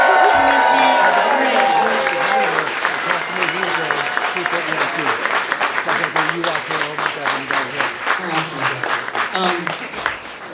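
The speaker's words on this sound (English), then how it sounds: "please give a huge round of applause for our first two Golden Lens winners, 2023." At the Film Prize 2023 kickoff event, an audience applauds the Golden Lens award winners. Cheers and whoops open it, then loud, close clapping settles into a brisk rhythmic beat with voices underneath.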